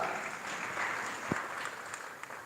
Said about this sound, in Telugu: గట్టిగా చప్పట్లు కొడుతూ ప్రభువుని మహిమపడదాం